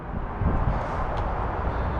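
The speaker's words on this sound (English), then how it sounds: "Sorry for the wind. It's a very windy day here in Knoxville." Steady wind buffets the microphone on a very windy day in Knoxville beside a 2022 Ford F-150 Tremor, a continuous low rumble and roar that runs loud and unbroken throughout.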